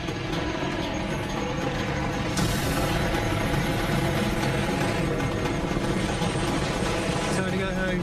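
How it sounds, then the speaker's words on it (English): A helicopter flies overhead, its steady, loud rotor thrum and engine roar filling the scene continuously, with a person talking over it. "That is the sound of a helicopter."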